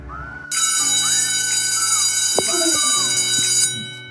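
An electronic school bell rings steadily for about three seconds at a classroom teacher's day skit, loud and sustained, with children's voices and movement underneath.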